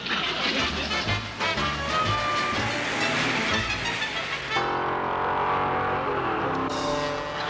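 Car driving fast along a road in a 1960s sitcom scene, a steady broadband engine and road roar filling the whole stretch, loud and continuous with a shift in tone partway through and no talk over it.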